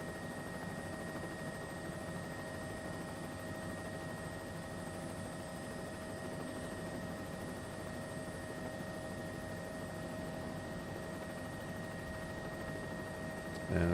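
Steady helicopter rotor and engine drone from Microsoft Flight Simulator 2024 as the helicopter sets down on a runway, a constant moderate hum with little change and no voices.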